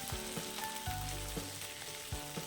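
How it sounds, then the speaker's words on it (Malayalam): Drumstick leaves fry in a pan over a low flame with a continuous close sizzle, broken by several soft clinks and stirring scrapes, and no voices. "ഈ ഇല ഇട്ടിട്ട് ഒന്ന് വറുത്തെടുക്കാം ചെറിയ തീയിൽ വെച്ചാൽ മതി ലോ ഫ്ലെയിമിൽ വെച്ചാൽ മതി"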